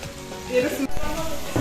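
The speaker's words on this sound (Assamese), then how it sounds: "এয়া হাঁহৰ মাংস বনাই আছে আমাৰ দীপশিখাই" Duck meat frying in a pan at home, a soft steady sizzle running through the short stretch with a voice talking over it.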